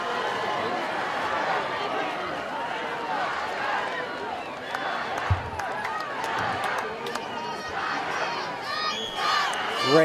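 Packed stadium crowd at a high school football game between Bishop Luers and Snider, a continuous roar of cheering and shouting with a play-by-play announcer talking over it and a few louder whoops near the end.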